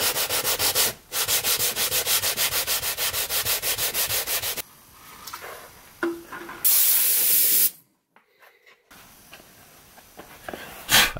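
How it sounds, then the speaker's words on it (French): Rhythmic back-and-forth hand sanding of black leather upholstery inside a BMW 730i V8, loud and close with steady strokes, followed by short spray hisses and quieter rubbing. "je constate qu'un petit ponçage de certaines zones est nécessaire"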